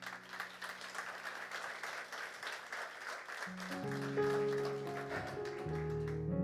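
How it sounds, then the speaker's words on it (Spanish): A church congregation claps together for about three and a half seconds, a moderately loud, even patter, before sustained organ or keyboard chords rise and the clapping thins beneath the music. "Denle un aplauso al Espíritu Santo."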